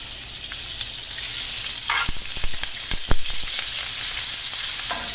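Corn oil and butter sizzle steadily in a pan while hash browns fry, with a few sharp clinks and scrapes of a utensil stirring near the middle; no talking.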